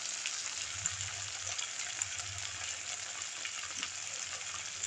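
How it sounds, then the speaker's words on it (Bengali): Cumin paste, turmeric and salt fry in oil for a rohu fish curry, giving a soft, steady sizzle with faint crackles throughout. "তো ভালো করে কষিয়ে নিই মশলাটাকে"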